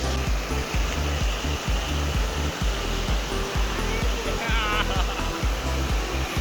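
Fast-flowing water of the Korang River rushes loudly and continuously close by, a dense steady roar with rhythmic low thumps underneath and a brief faint voice in the middle.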